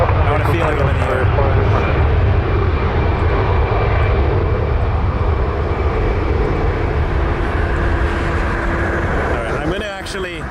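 Fixed-wing airliner taking off at Toronto Pearson airport: a loud, steady engine roar fills the whole stretch and eases slightly near the end.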